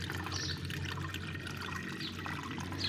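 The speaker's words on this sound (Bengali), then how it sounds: "প্রথমে একটা ছাঁকনি দিয়ে আমি কলার খোসার জলটা কিছুটা ছেঁকে নেব" Banana peel water strained through a kitchen strainer, trickling and pouring steadily into a container at close range, with no talk.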